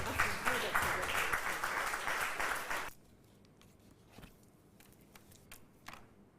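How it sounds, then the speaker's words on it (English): An audience applauds someone speaker with a Master of Fine Arts degree from the University of Ghana at a foundation event. The dense clapping is loud for about three seconds, then cuts off, leaving faint room noise and a few stray sounds. "let's give her a very big round of applause"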